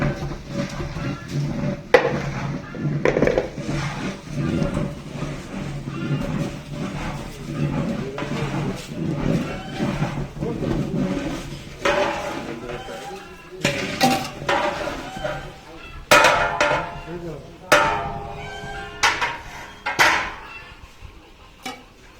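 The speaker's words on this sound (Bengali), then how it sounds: "চুলার মধ্যে পেঁয়াজগুলো ভালো মতো ভেজে নেওয়া হচ্ছে।" Onions frying in a large pot for Old Dhaka biryani made by a cook, with a steady sizzle and repeated clinks and scrapes of a metal ladle against the pot, close and busy throughout.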